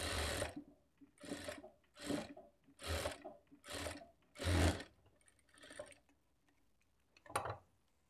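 A sewing machine stitches the lining cloth of a blouse in short bursts, about six quick runs of whirring needle noise with brief pauses, then a couple of lighter, scattered runs, close and alone.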